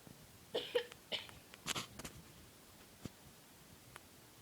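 Several small, quiet coughs come in a quick cluster, then a couple of fainter throat sounds and soft clicks spaced out over near-silent room tone, with no talking.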